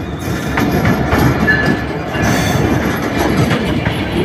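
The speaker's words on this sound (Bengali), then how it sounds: "ট্রেনের নাম হচ্ছে চিলাহাটি এক্সপ্রেস।" The Chilahati Express intercity train runs through Joydebpur station, making a loud, close, continuous rumble with dense wheel clatter and faint squeals of wheels on the rails.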